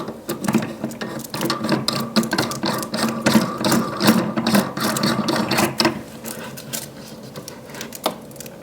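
A lock ring screwed down onto a wall sconce lampshade, giving a close, steady ratcheting clatter of threaded parts turning for several seconds before easing off, with no talk.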